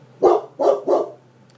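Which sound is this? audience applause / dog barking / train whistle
dog barking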